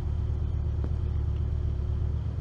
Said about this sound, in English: Yeah, that would be another car